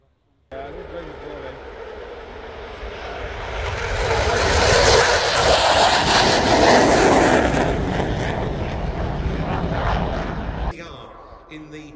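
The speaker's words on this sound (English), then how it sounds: "Yes-39C Gripen, flown by Captain Andrei Shmanko." A Saab JAS 39C Gripen fighter jet flies a display at the RIAT airshow, its roaring engine swelling louder toward the middle and then fading, heard steady and continuous over a distant crowd.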